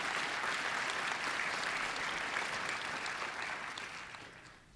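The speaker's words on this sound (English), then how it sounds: "Give her a round of applause as well." An audience at a county event honoring Team USA Olympians applauds an Olympic women's wrestling gold medalist, a dense, continuous wash of clapping heard at a moderate distance that tapers gradually toward the end.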